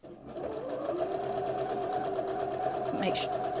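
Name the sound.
sewing machine sewing a back stitch on a shirt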